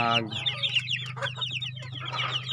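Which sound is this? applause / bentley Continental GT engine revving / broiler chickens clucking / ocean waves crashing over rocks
broiler chickens clucking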